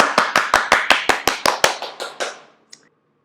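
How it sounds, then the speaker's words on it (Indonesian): Hands clap in a steady, even rhythm about a dozen times, crisp and close, at a children's church service, then the claps slow and fade out, with one faint sound after a short pause. "Beri tepuk tangan dan kemuliaan buat Tuhan."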